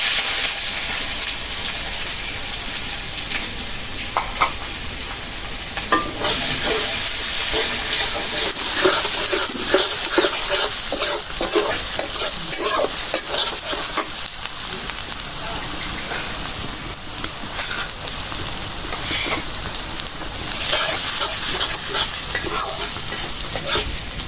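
Onions and bay leaves frying in hot mustard oil, giving a loud, dense, rain-like sizzle with intermittent stirring scrapes, close up and continuous, with no voices.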